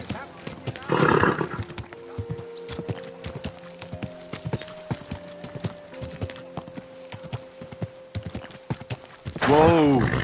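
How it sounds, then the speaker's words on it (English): Horse in the video game Kingdom Come: Deliverance 2, with steady clip-clop hoofbeats on the ground and two loud whinnying neighs, one near the start and one at the end, while people talk. "Easy, good horse."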